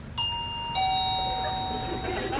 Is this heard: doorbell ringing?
yes